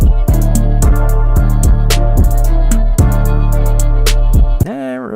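A loud hip-hop beat plays with deep 808 bass hits, crisp repeating hi-hats and a vocal sample in the background that sits out of key. Near the end it cuts to a warbling, pitch-bending tail.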